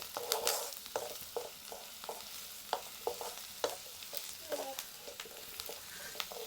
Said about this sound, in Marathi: सगळं आता चांगलं असं हलवून घ्यायचं आहे हळद टाकली मी सगळं मिक्स करू